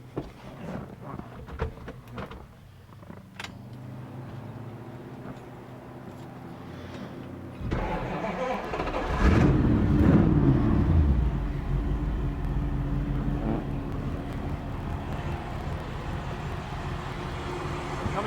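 A 1941 Ford Super Deluxe Convertible's engine cranks and catches, then settles into a loud, steady rumbling idle that runs on without pause.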